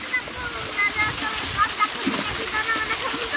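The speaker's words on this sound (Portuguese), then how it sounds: "esses dois patinhos que estão aqui na pousada, todo dia toma banho de cascata" Two ducks bathe in a waterfall pool at a guesthouse, with loud, continuous splashing and rushing water filling the whole stretch without pause.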